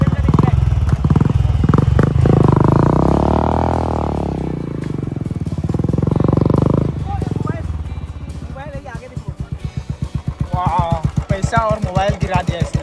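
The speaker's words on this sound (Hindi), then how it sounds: "ये लोग अभी बाइक निकाल रहे हैं, बितुल भैया भी जाएगा" Motorcycles are started and revved up close, loud chugging engines rising and falling, ending in a rapid, steady idle putter, with people talking throughout.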